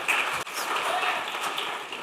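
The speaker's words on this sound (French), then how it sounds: "alors une main d'applaudissement pour Philippe" A small audience claps for Philippe in a dense, steady wash of applause lasting about two seconds, close and even throughout.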